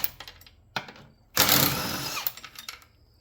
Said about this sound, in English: Let's take these bolts out here.